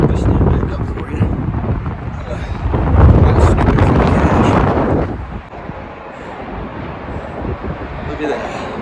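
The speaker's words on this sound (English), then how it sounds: "The wind's pretty strong up here." Strong wind buffets the top of a rock face on a hike to a hidden rock arch, with a heavy, gusting low roar that eases after about five seconds, while people talk.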